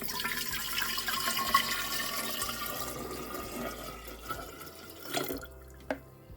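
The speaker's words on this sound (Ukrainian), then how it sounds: "І тепер цей літр розсолу вже вливаємо в банку." Brine made from a litre of cold filtered water pours into a jar for pickled cabbage. It makes a soft, steady trickling stream that tapers off into a couple of faint drips near the end.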